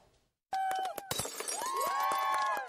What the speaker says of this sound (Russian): съемка первой серии сериала началась с разбивания блюд со штатив камеры